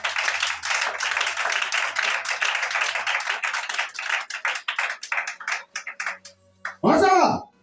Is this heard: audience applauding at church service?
yes